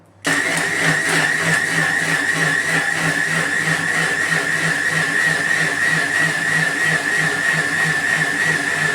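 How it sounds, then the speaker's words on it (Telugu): A mixer grinder whirs steadily as it blends banana juice with ice cubes. The motor starts abruptly and holds a loud, even drone for the rest of the clip, with no talking. "ఇప్పుడు ఇది మనం మెత్తగా మిక్సీ పట్టుకోవాలి."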